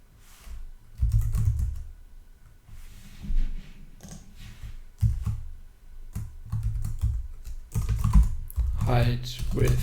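Computer keyboard typing while coding a programming puzzle: bursts of quick, close key clicks in uneven runs, with someone talking between and over them.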